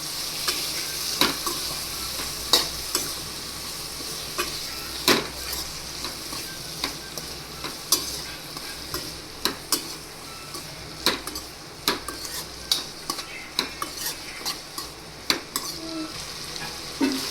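Thinly sliced cabbage and carrot for a Gujarati sambharo are tossed in a hot pan, with a continuous sizzle punctuated by many crisp, regular spatula clicks and scrapes against the metal, and no speech.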